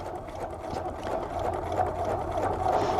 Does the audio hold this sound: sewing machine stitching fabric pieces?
yes